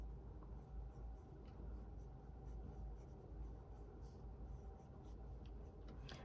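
Colored pencil scratching across paper while sketching a cartoon face, a steady soft rasp of close strokes running the whole time with no talk.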